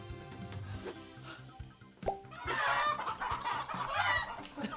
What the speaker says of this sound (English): Chicken! I have to get you in the pen!